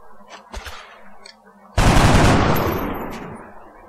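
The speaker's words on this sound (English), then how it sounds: "Yes, shoot." A gunshot burst in the XCOM strategy video game, preceded by a few faint clicks and quiet sounds, then a sudden loud blast that rings out and slowly decays.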